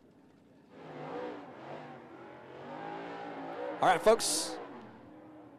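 Limited late model race cars run at 411 Motor Speedway, their engines droning at a distance under an announcer's voice, with a short sharp burst near the end.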